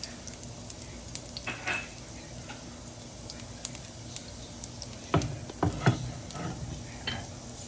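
Sausages for Cajun shrimp and sausage pasta cook in a pan with a soft, faint sizzle, with a few light scrapes and stirring knocks near the end.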